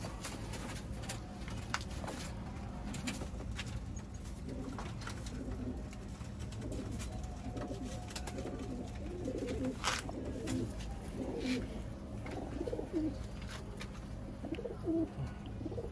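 Pigeons coo repeatedly in soft, low rolling calls over a steady background hum, with occasional faint clicks and rustles nearby.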